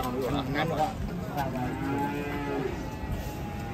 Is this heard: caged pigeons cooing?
no